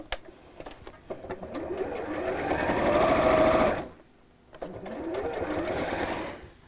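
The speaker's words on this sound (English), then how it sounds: "And then I'm going to sew across the bottom sections to hold that in place." Sewing machine stitching across the bottom sections of a fold-over tie purse, a steady close whirring run of about four seconds, a brief pause, then a second shorter burst of stitching.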